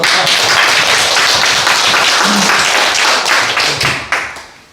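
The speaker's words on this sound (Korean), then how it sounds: "네, 박수!" A church congregation claps together after a sermon, a loud, dense round of hand claps that holds steady and then thins out toward the end.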